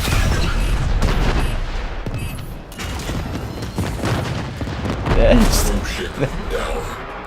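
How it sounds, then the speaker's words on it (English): Artillery barrage in the game Warframe, loud deep booms and rumbling blasts rolling one over another beneath a steady layer of battle noise, with a voice speaking over it. "There's the big artillery."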